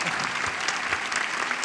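A crowd at the Rio book fair claps steadily, a dense, continuous round of applause from a sizeable audience heard nearby.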